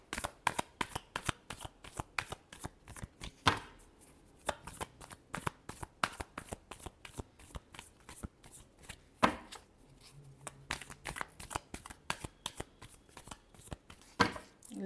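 Tarot cards shuffled rapidly and continuously, a steady stream of close, crisp riffling slaps and flutters with brief pauses, no talk.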